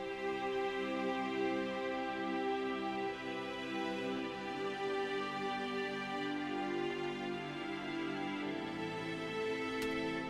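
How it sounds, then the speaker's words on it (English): Strings carry a melody with a counter melody weaving around it in an emotional pop ballad arrangement, producing a smooth, sustained, harmonized bed of tone that stays at an even, quiet level throughout. "Now, the next part of this is the melody and the counter melody."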